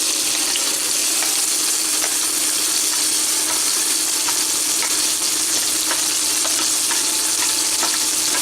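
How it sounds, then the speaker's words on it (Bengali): Prawns fry in hot mustard oil in a pan, a loud, steady sizzle that fills the whole stretch, with occasional faint clicks and no voices. "মাছগুলো ভাজা হয়ে গেছে।"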